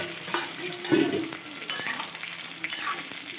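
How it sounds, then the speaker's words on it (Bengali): Lafa greens cooking in a pot with salt and turmeric are stirred with a spoon once the lid comes off. Scraping strokes sit over a steady sizzle, close and moderately loud, with no talking. "ঢাকা খুলে একটু নেড়ে চেড়ে"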